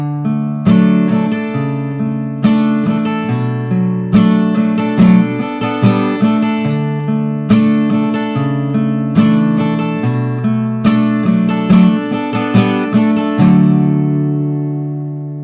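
An acoustic guitar plays a repeating post-chorus chord progression with regular strummed chords in a steady rhythm, close and clear, with no talking over it.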